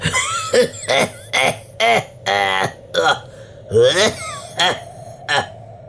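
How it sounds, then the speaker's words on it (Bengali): An old man of about sixty, wrapped in a worn shawl and leaning on a stick at a village tea stall, coughs in a loud, close run of about ten harsh, rasping, throaty bursts with short pauses between them. "অরূপের কথা শেষ হতেই কাশি শোনা গেল"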